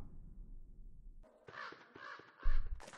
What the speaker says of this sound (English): And we'll call the bird.